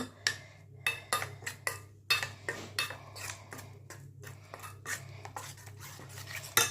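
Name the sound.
mixing spice paste with chili powder, turmeric and yogurt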